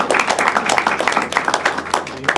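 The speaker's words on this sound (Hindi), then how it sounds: "सर के लिए तालियां बजा दो भाई" A comedy show audience bursts into dense, loud clapping for a man in the crowd, with a sustained crackle of many hands and voices mixed in.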